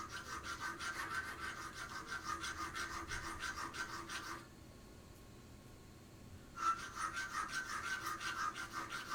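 A hand-forged medieval-style folding knife filed with a square file, giving steady close rhythmic rasping strokes that pause for about two seconds midway before resuming.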